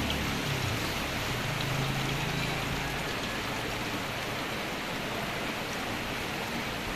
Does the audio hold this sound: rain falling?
yes